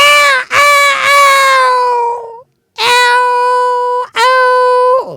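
A person imitates a cat in heat, giving four long, loud wailing meows in two pairs, each drawn out and close with a short gap between pairs.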